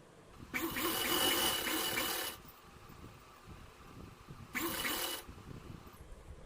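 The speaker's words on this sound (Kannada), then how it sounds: "ಈಗ ಇದು ಬೆಲ್ಟ್ ಪಟ್ಟಿನ ಸ್ಟಿಚ್ ಮಾಡ್ಕೊಳ್ಳೋಣ" A sewing machine stitches a belt strip for a blouse in two close whirring runs, one about two seconds long and a shorter one after a quiet pause, with no talk.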